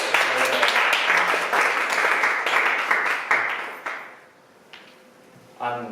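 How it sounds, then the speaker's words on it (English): Applause from an audience at a project review presentation, a dense, loud clapping that carries on for about four seconds, then thins and trails off into near silence before a brief final burst. "You give it applause."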